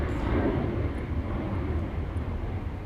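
A new Airbus aircraft begins to taxi at the factory, its engines giving a steady, broad low rumble and roar that fills the clip at moderate distance, with no clear talk over it.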